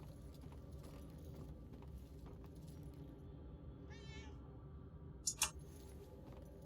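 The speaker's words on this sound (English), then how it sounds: "There are cats in this game," In the video game Murdered: Soul Suspect, a single short, faint cat meow rises over quiet, low background ambience, followed a moment later by a brief, sharper high sound.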